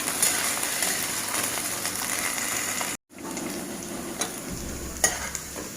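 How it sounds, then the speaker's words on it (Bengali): Potatoes fry with whole bay leaves in a pan, browning in a steady, close, loud sizzle, with a brief cut in the middle and a couple of small stirring knocks. "আলুটাকে ভেজে নেওয়া হচ্ছে লাল করে।"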